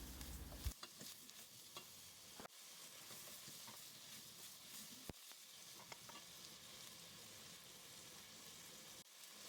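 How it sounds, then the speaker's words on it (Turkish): Onions, potatoes and carrots sauté in a pan with a soft, steady sizzle, with scattered stirring clicks and scrapes from a utensil throughout; fairly quiet and close, with no voices. "Şöyle 1-2 dakika daha kavuruyorum."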